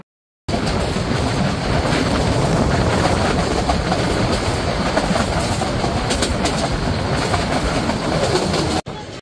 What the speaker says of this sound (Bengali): আর এই ট্রেনটি কিন্তু এখনো কোনো জায়গায় দাঁড়ায়নি